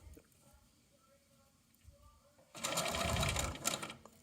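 A sewing machine stitches a flat knit band to a garment edge, first quiet with faint hums, then a loud, fast, continuous run of stitching in the second half, close up.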